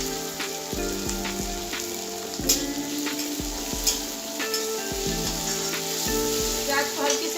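Two medium chopped onions fry lightly in a pan for Mumbai-style pav bhaji, a steady close sizzle with intermittent stirring scrapes over a low tonal background hum, no speech.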